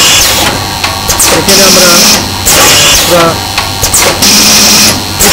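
A paper cone making machine runs empty with no paper fed in, giving a steady mechanical whir with repeating cyclic clatter, close and loud throughout, while someone talks over it.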